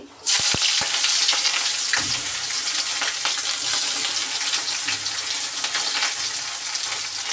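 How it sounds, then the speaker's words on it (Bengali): Chopped onion dropped into hot oil with bay leaf in a karahi wok for meat, a sudden loud burst of sizzling that settles into a steady close crackle, with a few clinks of utensils. "যার জন্য তেল দিয়ে দিয়েছি কড়াইতে, তেজপাতা দিয়েছি তারের মধ্যে। এখন দিয়ে দিব পেঁয়াজ কুচি,"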